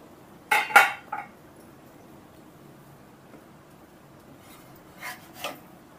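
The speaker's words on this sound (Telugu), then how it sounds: "ఇప్పుడు మనం ఆయిల్ వేయట్లేదు కదా, దీని మీద ఇప్పుడు మనం ఒక మూత పెట్టేద్దామండి." A metal lid clinks and scrapes onto a pan where an instant set dosa is cooking. A quick cluster of faint clinks is followed, after a quiet stretch, by two softer knocks.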